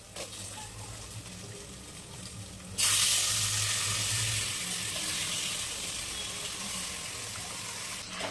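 Raw chicken hits a hot pan of crisp-fried onion and fully melted tomato in a home kitchen, setting off a sudden loud sizzle that settles into steady close frying after a quiet start.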